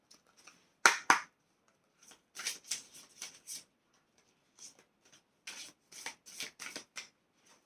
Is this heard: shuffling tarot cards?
yes